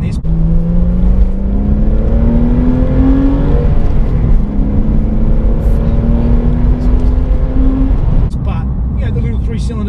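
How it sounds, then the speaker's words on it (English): A Toyota GR Yaris with its small three-cylinder engine pulling hard, a steady droning growl with rising pitch through a gear change and a brief lift near the end, heard from inside the car as a voice talks over it. "The little 3-cylinder doesn't actually sound too bad."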